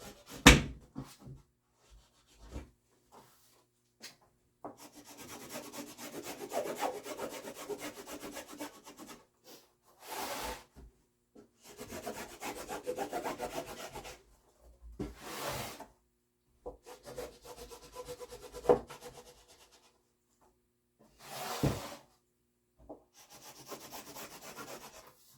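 Canvas rubbed by hand onto a wooden shield blank, producing repeated bursts of dry scraping friction separated by short pauses, close and fairly quiet, with a few sharp knocks at the start.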